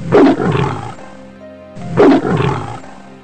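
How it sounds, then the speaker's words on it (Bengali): A cartoon tiger gives two loud, close roars with a short pause between them, alone with no talk. "একদিন রাতে নদীর ধারে বাঘ এসে হাজির।"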